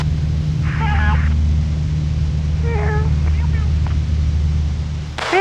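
A pilot imitates a cat, giving two short meows over a steady droning aircraft radio hiss on Gainesville traffic frequency, with a brief burst of radio noise at the end.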